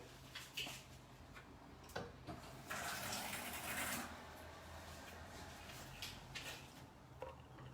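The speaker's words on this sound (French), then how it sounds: "Donc là-dedans, je vais rajouter un peu d'eau." Water is poured into a slimming recipe mixture, giving a faint trickling fill with a few small knocks and clicks in a quiet room.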